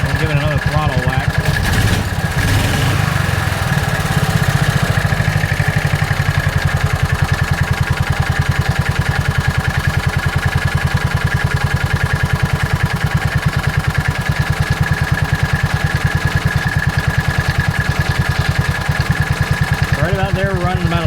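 The small engine of a John Deere Gator 4x2 utility vehicle idles steadily after a tune-up and throttle adjustment, a close, loud, continuous putter with a brief rise near the start and someone talking over it.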